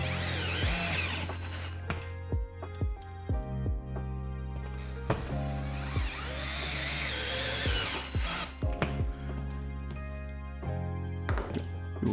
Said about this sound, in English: You will tighten the anchors all the way in.